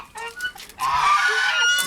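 Close, loud fowl calls: a few short clucks followed by a longer drawn-out squawk, with nothing else in the background.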